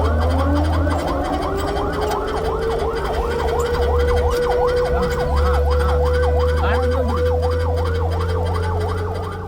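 Ambulance carrying a critically ill patient on the road from Bekal through Kanhangad town, its siren wailing in fast, regular up-and-down sweeps, loud and close over a steady engine drone.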